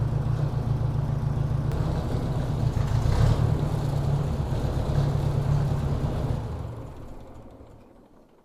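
An old Ford Workmaster 601 tractor with its fuel shut off runs on steadily with a low, even engine rumble, then sputters down and dies away as the fuel runs out.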